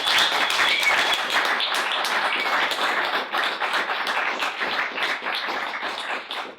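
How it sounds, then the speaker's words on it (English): An audience at a startup talk in Helsinki breaks into sustained applause after a speaker, a dense, lively patter of many hands that stays fairly loud and even throughout. "Let's give him a massive applause."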